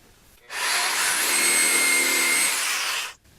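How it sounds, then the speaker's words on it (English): A reciprocating saw cuts through material to make a spacer for a homemade E30 widebody side skirt, a loud, steady buzzing whine running about two and a half seconds before stopping abruptly. "I'm going to cut one out using a Sawzall."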